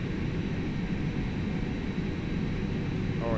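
An Airbus A319 idles in a flight simulator with a steady, broadband engine rumble and hiss that holds level throughout, with no voices.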